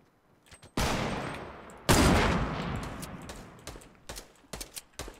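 Video game gunfire in a battle royale match: two loud, close bursts of automatic fire, each trailing off into echoing decay, followed by scattered quieter shots and clicks, with no talking.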